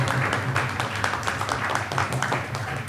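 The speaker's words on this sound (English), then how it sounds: "Your applause must be louder than the Mridanga." A crowd applauds steadily at a youth quiz competition results announcement, a dense wash of clapping hands that holds at an even level throughout.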